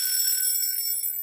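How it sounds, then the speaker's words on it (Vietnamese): A Seiko Japanese alarm clock rings with a continuous, loud, high-pitched metallic ring, close by, with no talking. "này gạt lên báo thức nè"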